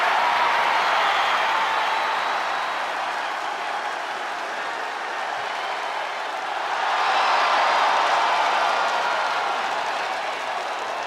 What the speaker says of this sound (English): This crowd is absolutely frenzied.